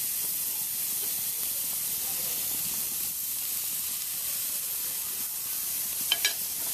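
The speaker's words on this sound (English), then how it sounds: "all I'm going to do is put them on that lightly greased grill surface here" Shrimp sizzling steadily on a hot, lightly greased grill surface, a dense, unbroken hiss filling the whole stretch up close, with a couple of small pops near the end and no talk.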